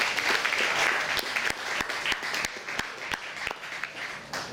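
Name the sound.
round of applause for Fred Morrison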